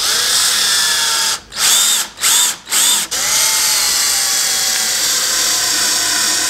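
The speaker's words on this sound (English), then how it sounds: "that's where I'm gonna screw it." A loud, close power drill drives a screw into a wooden bench for a dining table set, running steadily with a high whine, briefly stopping and restarting three times, then continuing without pause, with no talk.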